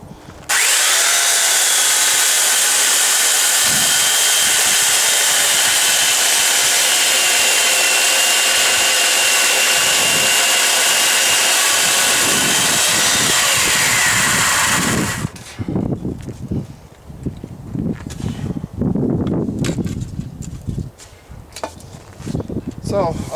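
A power tool cuts into an aspen log for a rustic log bunk bed, a loud, steady, high whine that runs for about fifteen seconds and then cuts off, followed by knocks, handling noises and someone speaking.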